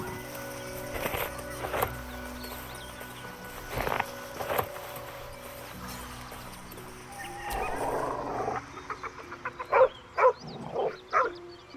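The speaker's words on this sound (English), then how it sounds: "The dog lowers his hackles, his head tilted inquisitively." A dog in Baldur's Gate 3 gives several loud barks and yips, with repeated sharp bursts toward the end over a quiet background.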